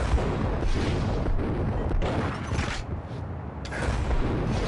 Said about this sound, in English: Max can shoot dodge by moving and pressing the L1 for a bullet time combo